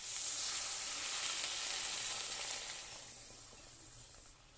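Water poured into a pan of small fish frying with salt, turmeric and chili paste sets off a loud, steady hiss of sizzling that holds throughout and tapers slightly at the end, with no voices.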